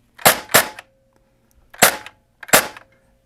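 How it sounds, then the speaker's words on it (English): A Perun P90 airsoft gun with a Perun MOSFET fires in semi-auto, four sharp, loud cracks: two in quick succession, then two more after a pause, each followed by a brief mechanical whir. "it's cycling so fast that it is struggling to shoot one round in the semi, but because we're using the 52K, it sounds like one round"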